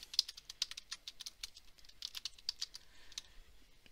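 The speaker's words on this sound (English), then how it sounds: "You're going to type your name first, then your instructor's name," Fast, irregular typing on a computer keyboard, with light clicks coming close together in bursts and no voice at all.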